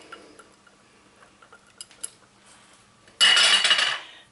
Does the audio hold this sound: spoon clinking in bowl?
yes